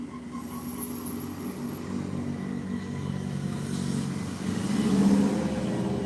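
A car engine revs hard while its front wheels barely turn, a steady loud low rumble swelling toward the end, with no talk over it.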